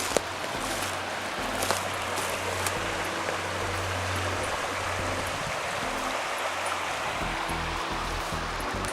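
Continuous rushing water flows nearby, a steady broadband wash with a low rumble underneath and no voices.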